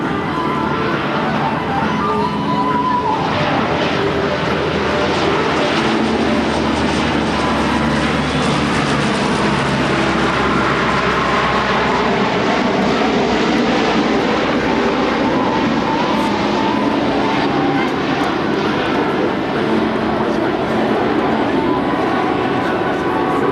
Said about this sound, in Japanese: He's going to bring the aircraft in from the right at just barely above stall speed.